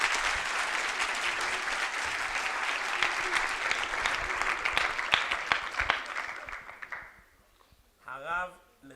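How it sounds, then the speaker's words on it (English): Audience clapping for Levi at a memorial gathering, sustained and full for about seven seconds, then fading, with a voice speaking briefly at the end. "Please, another clap for Levi."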